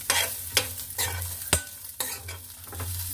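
Cashew nuts fry in a pan, stirred with scrapes and clatters at a steady pace, each stroke a sharp burst over a constant low sizzle, up close.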